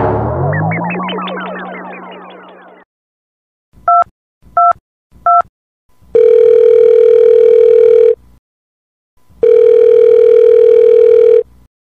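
A telephone sound sequence starts with a rising warble, then three short dialing beeps, followed by two long, loud electronic ring tones separated by a pause, all clean with no voices.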